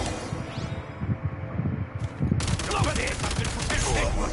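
Rapid gunfire in a Genshin Impact fight crackles in dense bursts against enemies, growing into a sustained loud fusillade in the second half.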